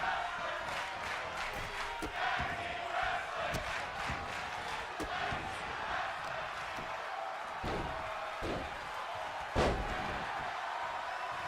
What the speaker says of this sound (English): And now slamming Roman against the canvas.